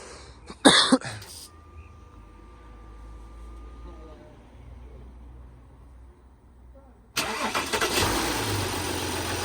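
Vauxhall Astra H van engine cranks and catches after a pause, settling into a rough idle; a brief burst of noise and a cough come first, with quiet background hum between.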